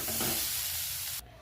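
Pointed gourd frying in a wok gives a dense, close sizzle with stirring scrapes for a brief moment before cutting off sharply.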